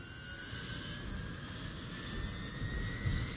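A helicopter in a film fight scene drones as a steady, low rumbling engine roar with a faint high whine, continuous and fairly quiet, swelling slightly toward the end.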